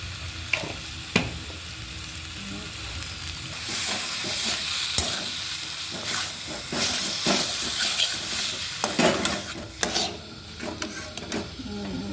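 Greens fry in a pan with chili paste, turmeric and salt, stirred often: a close, steady sizzle broken by repeated scraping and knocking spatula strokes, with no voices.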